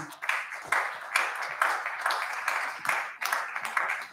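An audience at an awards ceremony for a startup competition claps in a steady rhythm, the bursts of clapping coming at regular intervals and staying moderately loud.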